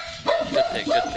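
Pet dogs barking and yipping in a home, several quick barks with a whimpering tone, heard alongside someone speaking.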